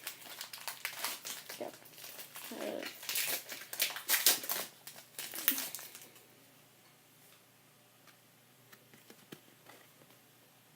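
Crinkling foil wrappers of Pokémon trading card packs being torn open by hand, several seconds of close crackling and rustling that fades into quiet room tone, with one short spoken word.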